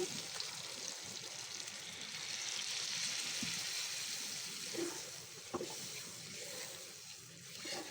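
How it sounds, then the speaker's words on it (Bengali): Water is poured into shrimp bhuna cooking in a pan, giving a steady, close rushing pour that runs for several seconds with no talk. "তো আমি এখন পানি দিয়ে দিচ্ছি"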